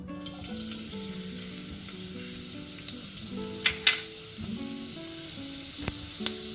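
Ginger strips frying in a pan for tofu and prawns in soya sauce, a steady close sizzle with a few sharp spatters and scraping stirs, no voices.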